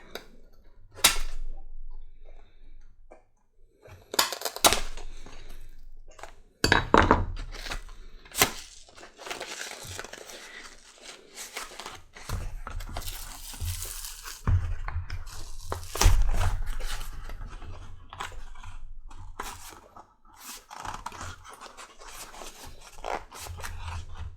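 A trim knife cuts leather for a Colt Single Action Army revolver holster, giving intermittent sharp slicing and scraping strokes at close range, with quiet pauses between the cuts.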